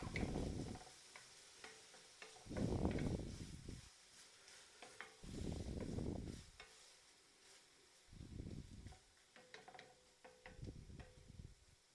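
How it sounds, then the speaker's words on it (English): Vegetables soften in a pan for lasagne, with several soft bursts of stirring and light sizzling separated by quiet pauses, close and fairly faint, no talking. "We just want to lightly saute all this. Break it down, move it around."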